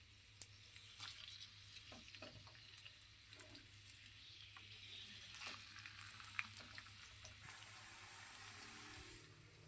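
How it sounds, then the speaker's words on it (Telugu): Onion and green chili frying in hot oil for a prawn and okra curry give a steady close sizzle throughout, with a few sharp clinks and stirring sounds along the way. "ఇప్పుడు ఉల్లిపాయ పచ్చిమిరపకాయ నూనెలో వేస్తున్నాను"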